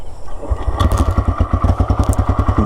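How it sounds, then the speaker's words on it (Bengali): A TVS Raider 125cc motorcycle engine runs close by with a steady, rapid thumping exhaust beat that firms up after a brief start, with no voices. "তো বাইকের একটু এক্সজস্ট নোট শুনে আসি।"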